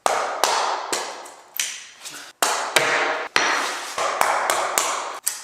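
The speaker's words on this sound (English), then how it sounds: "I'm gonna put this on underneath the tack strip and just hammer it out, and it's gonna pop those nails up." A hammer strikes a flathead screwdriver wedged under a carpet tack strip, prying nails up with a dozen or so sharp metallic taps at an uneven pace, close and loud.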